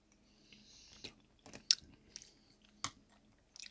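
Close, quiet crunching and biting on cocoa dusted almonds and pretzel sticks, several crisp bites spaced irregularly with soft chewing between, no talking.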